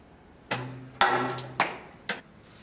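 Polymer impact-testing pendulum hammer released and swinging, producing several sharp metallic clacks and knocks with ringing tails, close and fairly loud, spaced about half a second apart.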